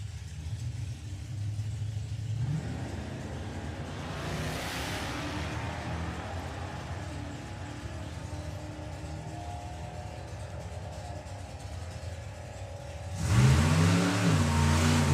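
A 1979 Camaro drag car called the Nightmare revs at the line at a sportsman nationals event. A steady engine rumble holds throughout, then a louder, harmonic-rich burst of revving swells near the end.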